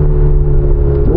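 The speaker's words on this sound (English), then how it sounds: "you pretty much always hear it open, and that means that you can hear the downshifts more often" A Ferrari 488 Spider's exhaust with its valves open gives a loud, deep, steady engine drone close by, with a slight rise in pitch at the end as it shifts.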